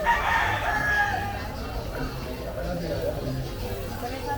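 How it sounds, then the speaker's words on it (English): Chickens and roosters clucking and crowing in the background of a busy outdoor gathering in Medellín, Colombia, with crowd chatter and voices over steady background noise. "Can you hear the chickens? They're going off already."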